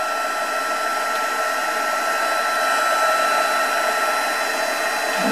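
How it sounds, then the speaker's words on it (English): A heat tool blows steadily while melting embossing powder for a colour-embossing card technique, a constant close airy whir like a hair dryer that runs unbroken throughout. "get our heat tool. Just heat that up"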